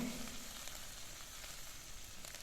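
Chillies and curry leaves frying in hot oil, a steady soft crackling sizzle with faint pops, continuous and fairly quiet.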